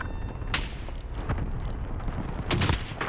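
Gunfire in an online shooter video game: sharp shots crack out at intervals with louder bursts near the start and end, over a dense rumbling battle background with no talking.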